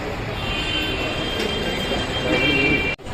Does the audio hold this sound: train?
yes